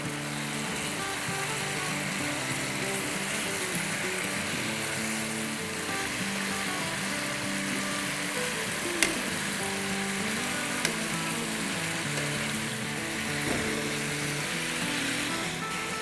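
Chicken atishi sizzles steadily over an open flame on a charcoal stove, a dense, even frying hiss that carries on without pause, close and moderately loud, with a couple of faint clicks and no talk.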